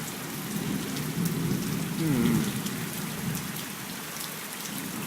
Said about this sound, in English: it was a beautiful storm